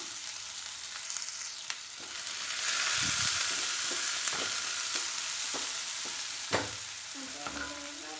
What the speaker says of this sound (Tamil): ஒரு பெரிய வெங்காயம் எடுத்துருக்கேன், கட் பண்ணி அதையே இதில் சேர்த்துடலாம்